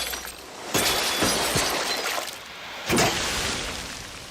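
A waterbed shattering in a TV show flashback: loud crashing breaks with bright splintering bursts, two main impacts a couple of seconds apart trailed by scattered crackling, with no voices.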